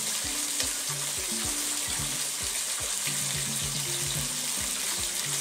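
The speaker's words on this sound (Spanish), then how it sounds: "Ya está sonando el bacon." Bacon fries in a pan with a constant crackling sizzle, and repeated scraping and stirring knocks sound as the pieces are moved around, all fairly close.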